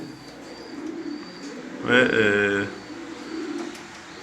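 A pigeon gives a loud, rolling coo close by, one burst lasting about a second, between quieter stretches of someone talking.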